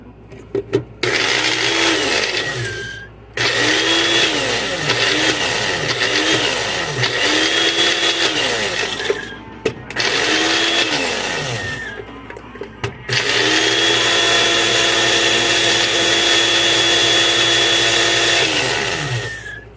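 An electric blender blitzing chilies for a roasted garlic honey mustard with horseradish, its loud motor whine running in several long bursts separated by brief pauses, with the pitch dipping and rising as the blade loads.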